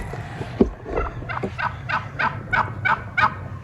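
A turkey gobbles repeatedly in quick, rising bursts, fairly close on a farm, over a low background rumble.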